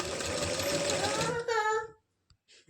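A sewing machine stitching a palazzo pant along the pocket edge whirs loudly in one short, steady burst and then stops, followed by a brief spoken voice.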